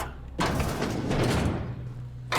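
A door in The Outer Worlds opens with a loud, broad rushing whoosh that holds steady for about two seconds and then cuts off abruptly, close and heavy, over a faint low hum.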